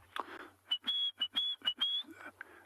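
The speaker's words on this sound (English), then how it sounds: "one of the calls we were hearing at the background over here was of a white-browed scrub robin" A white-browed scrub robin calls at a safari site around sunset with a short series of clear, high whistled notes in quick succession, heard at moderate distance against a quiet outdoor background.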